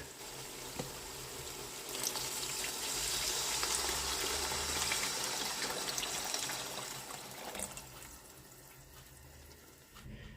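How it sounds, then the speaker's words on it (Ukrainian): Juice poured into a pot of sweet pepper lecho, a steady liquid pour with trickling and splashing that holds for several seconds, then tapers off toward the end; close and fairly quiet, with no talking. "Тепер доливаємо сюди сік."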